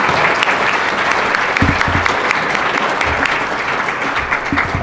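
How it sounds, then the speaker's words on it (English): An audience applauds sponsors at a welcome address, a dense, sustained burst of clapping that fills the room evenly from start to finish. "So please, huge round of applause for all of these sponsors,"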